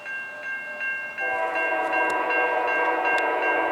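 A CN freight train, locomotive 3309, sounds a sustained multi-tone horn at a crossing in Ladysmith, Wisconsin, first in short bursts and then as one long blast with rumbling under it.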